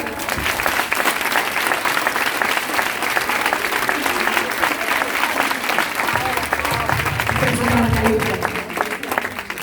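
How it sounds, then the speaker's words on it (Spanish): Audience at a secondary school Christmas festival gives loud, sustained applause, dense clapping filling the hall with some crowd noise and faint voices mixed in. "Actuación de Alicia, darle un fuerte aplauso."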